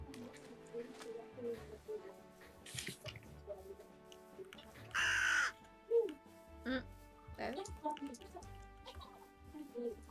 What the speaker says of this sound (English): Bird over here.